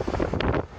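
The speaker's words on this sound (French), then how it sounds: "vous avez eu aussi le vent." Gusty wind at Port-Bou buffets the microphone, producing low rumbling thumps and rough noise for a brief moment.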